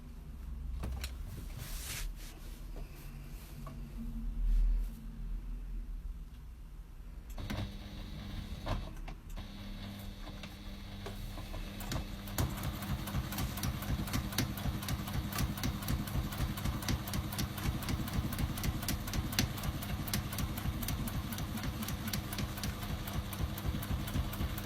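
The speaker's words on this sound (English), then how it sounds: "we're going to stitch along that line, stitching through both layers of fabric" A sewing machine stitches along a line through two layers of fabric, its fast needle rattle settling into a steady, even mechanical chatter that runs continuously after some quieter handling at the start.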